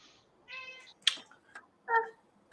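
A pet cat meowing close by, several short separate meows in quick succession with no talk over them.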